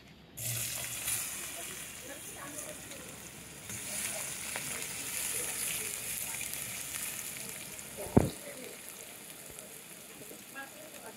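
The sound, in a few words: potatoes frying in a pan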